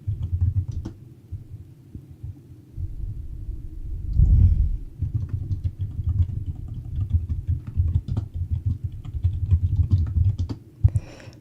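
Computer keyboard typing in a home setup, with steady irregular key clicks over a low hum for most of the length and a louder burst of clatter midway and near the end.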